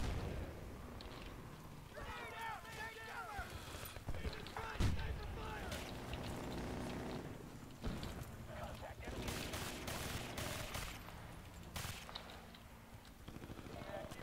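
Suppressed gunfire in Battlefield: Bad Company 2, a run of muffled, clipped shots in irregular bursts among other battlefield noise, with people talking over it.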